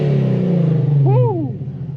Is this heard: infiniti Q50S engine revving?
yes